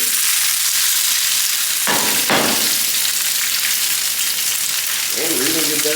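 Fajita meat frying in olive oil in a pan, a steady loud sizzle throughout with a few sharp bursts as pieces go in around the second and third seconds.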